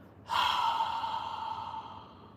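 One long, steady exhale from a cyclic breathing exercise, close to the microphone. It starts suddenly with a breathy rush and fades slowly over about two seconds, with no talking.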